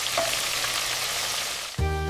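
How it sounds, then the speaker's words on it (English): Steady, dense sizzling of Korean chicken frying in a hot pan, close and continuous, with a brief clank near the end. "Watch that sizzle."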